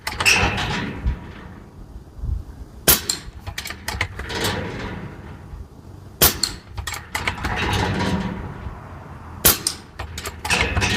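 A Barra 250z .22 caliber air rifle, RogueAir Edition, fires hybrid pellets at a steel dueling tree: three sharp cracks a few seconds apart, each with a quick metallic clank, and quieter handling noise between them.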